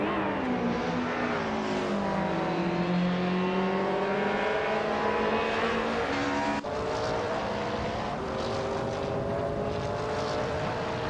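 A 1995 BMW M3 GTR race car in a Retro DTM class racing game drones loudly and steadily, its engine tone sliding up and down through gear changes as it laps, with no talk.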